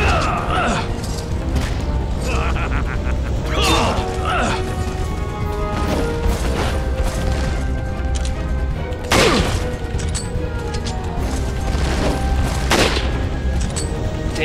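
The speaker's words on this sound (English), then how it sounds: "I don't think the sniper rifle's working, but I'm just gonna have to keep shooting his legs." In Resident Evil 4, sniper rifle shots ring out as sharp, loud cracks every few seconds over a busy game soundscape of crashes and clatter.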